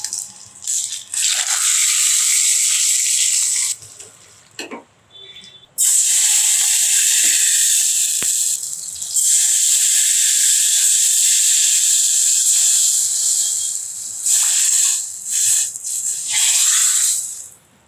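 Hot tempering of fenugreek seeds, a dried red chilli, a green chilli and curry leaves hisses loudly as it hits tomato rasam, a strong steamy sizzle that fades briefly in the middle, then surges back and runs on with short dips.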